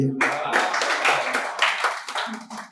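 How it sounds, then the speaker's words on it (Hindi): A poetry event audience claps continuously, a dense patter of many hands mixed with voices, sustained for a few seconds. "ये तालियां बजाते रहिए"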